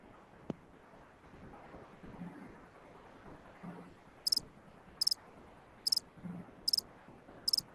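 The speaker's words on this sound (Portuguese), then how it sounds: "Olha o grilo, olha o grilo." A cricket chirps at night in regular bursts, about five evenly spaced pulses under a low, faint background hiss and rumble, with no voices.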